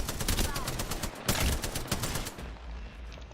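Gunfire in the video game Apex Legends comes as bursts of rapid, sharp shots with a dense crackle, loud and close, stopping near the end and followed by quieter game sounds.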